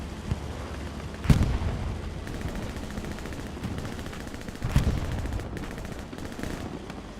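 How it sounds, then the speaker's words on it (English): Distant rattling gunfire in the Hell Let Loose battle game runs steadily throughout, punctuated by two heavy artillery booms, the first slightly louder than the second. "artillery gun just took out a whole bunch of spawns"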